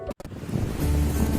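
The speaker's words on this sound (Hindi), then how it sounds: "ये सागर का वो लहराता हुआ पानी" Sea waves roll and wash close by, a steady loud surging rush with wind buffeting the microphone and a brief dropout near the start.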